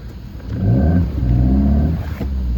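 A car engine revs hard as the driver tries to climb a snow-covered mountain road toward Gulaba. The engine note is close and loud, rising and holding in strained surges with no voices.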